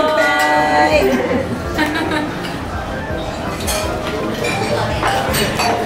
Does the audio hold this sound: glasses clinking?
yes